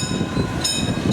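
Key West tour train rumbling steadily along the street, with low wheel and engine noise and faint metallic squeals, close and continuous with no talk.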